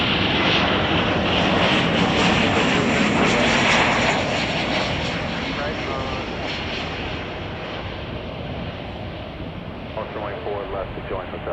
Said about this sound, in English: We've got another flight from Vegas coming in right now